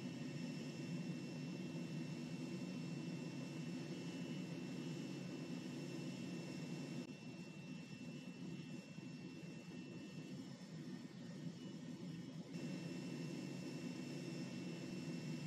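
Steady jet engine drone from an F-35 in Microsoft Flight Simulator, a continuous even roar with a slight dip in the middle, heard alone with no talk.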